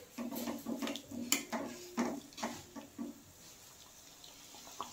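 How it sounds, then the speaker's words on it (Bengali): Water is poured into a pan of puti fish curry in a home kitchen, a short run of soft splashes and trickling close by, followed by quiet clinks and stillness. "আর একটু জল দিয়ে দেবো এবার"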